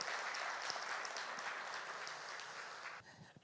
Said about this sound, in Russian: под ваши бурные аплодисменты выходит